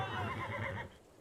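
A horse neighs in an animated film, a loud, close whinny with a wavering pitch that lasts most of a second and then cuts off abruptly into quiet.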